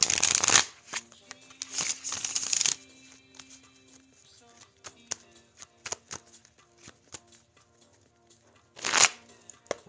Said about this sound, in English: We're shuffling the cards for Aquarius today.